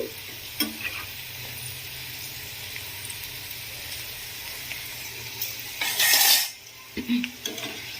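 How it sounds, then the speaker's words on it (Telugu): Okra, bendakaya, frying for crispy kurkure in a pan of oil, a constant bubbling sizzle with occasional utensil clinks and a loud burst of spatter near the end, no speech. "ఇవి మంచిగా ఫ్రై అయ్యేంత వరకు కూడా చేసుకోవాలి"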